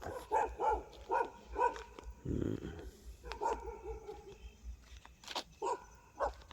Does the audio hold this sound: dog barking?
yes